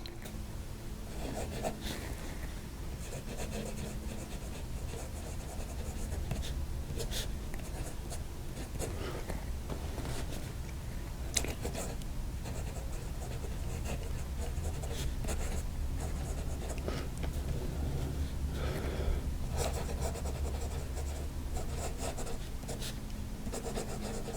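A Waterman 54 fountain pen, fitted with a 1940s Commando nib, scratches across paper in continuous strokes with small taps and pauses, close and fairly quiet.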